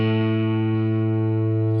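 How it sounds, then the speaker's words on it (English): An electric Stratocaster played through heavy distortion rings out as a sustained, buzzing chord, loud and close, with a brief pick attack partway through and no voices. "I don't know why I have all that distortion on it."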